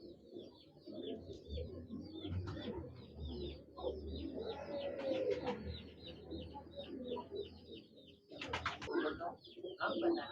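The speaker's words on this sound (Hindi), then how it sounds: "ये टैडी कबूतर है जी।" Teddy breed pigeons coo in a low, continuous murmur, with overlapping soft calls close by and a brief louder flutter near the end.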